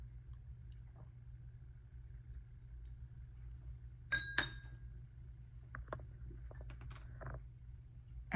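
A glass of water set down on a hard surface, with a couple of short, bright clinks over a low steady hum, fairly close and quiet.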